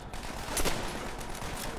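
Dense rapid gunfire from Call of Duty: World at War, a sustained fusillade of overlapping shots and bursts at steady loudness with no talking.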